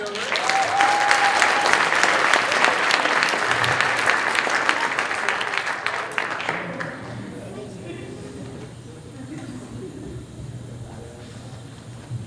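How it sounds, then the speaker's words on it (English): Audience applause at a college illusionist's magic show as a volunteer comes up on stage, loud, dense and sustained for about six seconds, with a brief whistle, then fading into quieter room noise and a few scattered claps. "round of applause"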